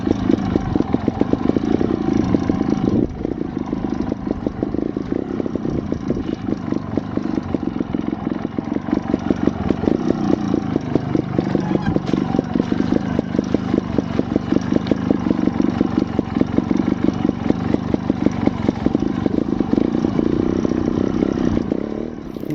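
A Scorpa 250 trials motorcycle putters slowly through trees, its single engine chugging steadily at low revs with a rapid, even thump and light clatter throughout, fairly close and with no talk.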